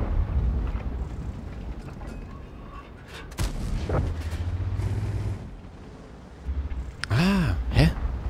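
Tank cannons fire in the video game World of Tanks, heavy booms and sharp blasts spread across several seconds, with ringing, whooping tones near the end and faint voices in the background.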